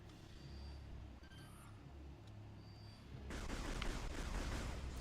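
Arm cannon fire in the game Metroid Prime 3: Corruption, a dense rapid stream of blasts that starts abruptly partway through and keeps going loud. Quieter game ambience with faint tonal effects comes before it.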